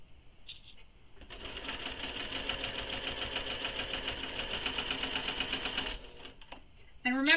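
A sewing machine stitches a backpack panel with a steady, rapid mechanical whir for several seconds, starting and stopping with brief clicks, and someone talks before and after it.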